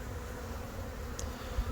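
Close, constant buzzing of honey bees out on an autumn cleansing flight, an even insect drone heard on its own.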